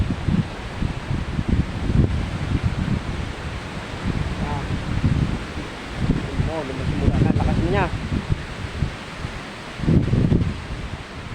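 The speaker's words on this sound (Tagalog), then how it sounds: "Yan, tunog na yung mga puno." Strong typhoon gusts rush through trees with loud rustling and wind buffeting the microphone, while a person speaks briefly underneath.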